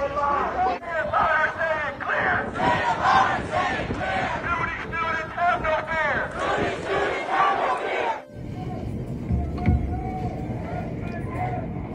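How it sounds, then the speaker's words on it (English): A large crowd of university protesters at a pro-Palestine demonstration shouts and chants in loud rhythmic bursts for about eight seconds, then drops to a murmur of babble and background noise. "What a crowd."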